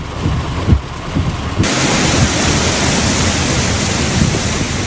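Heavy rain pours steadily in a loud, dense hiss during a thunderstorm in Texas. Low rumbles of thunder come near the start before the downpour thickens and stays constant.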